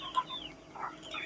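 Two-month-old country chickens of a native breed from Punjab clucking close by on a small farm in Kerala, short soft calls, two quick bursts with no talking.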